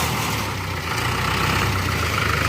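A tractor engine idles steadily near a soybean field as rain clouds gather, a low, even rumble with a constant throb and no talking.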